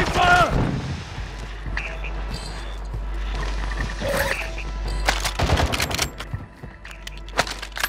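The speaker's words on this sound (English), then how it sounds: "I'm taking fire!" Bursts of gunfire in the video game Call of Duty Warzone crack out in several loud volleys over a low rumble, with game voices talking between shots.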